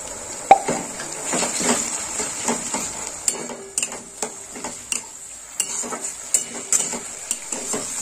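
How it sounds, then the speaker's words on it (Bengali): Onion paste fries in a pan with a constant sizzle, broken by repeated sharp clinks and scrapes from a spoon stirring against the metal. "পেঁয়াজটা একটু লাল লাল করে ভেজে নেবো"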